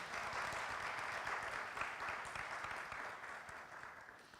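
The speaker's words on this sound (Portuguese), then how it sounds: "Não ouvi vocês aplaudindo, por favor." Audience applause at a talk event, steady dense clapping from a crowd that holds evenly and fades slightly toward the end, fairly faint and somewhat distant.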